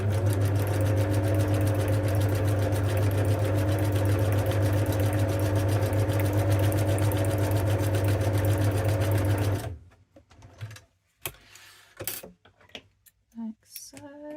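A sewing machine runs steadily for about ten seconds, zigzag stitching along fabric with a fast, even mechanical whir, then stops, leaving light handling clicks and rustles.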